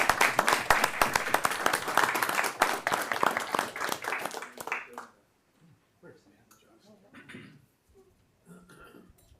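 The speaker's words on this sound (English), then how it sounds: "if you could join me in giving a round of applause to the department" Applause for a county department at a Jefferson County board meeting: a dense, steady round of clapping from the room for about five seconds, then fading into scattered low murmurs and a few voices.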